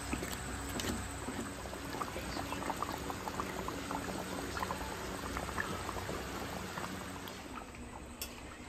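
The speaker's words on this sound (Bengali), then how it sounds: "মাংসটা কষানো হয়ে গেছে, এবার জল দিয়ে দেবো" Meat curry simmering in a pot after the browned meat has water added, a steady bubbling hiss with soft liquid gurgles running evenly throughout at close range.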